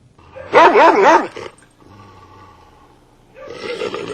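An aggressive dog gives a loud, close burst of harsh barking that rises and falls, then quieter growly rumbling, then another bark-like outburst at the end, with no talking.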